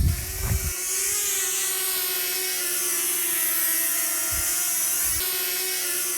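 A camera drone flies close overhead among palm trees, its high, steady buzzing whine loud and continuous throughout with no voices.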